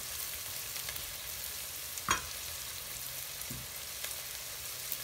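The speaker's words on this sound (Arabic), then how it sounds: "هنحط الفلفل، نقلبه" Chili peppers frying and being stirred in a pan for spicy pasta, a continuous soft sizzle with a sharp spatula clack near the middle and a few quieter scrapes, close and without talk.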